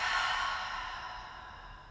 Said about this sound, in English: Inhale one more time. Audible exhale out.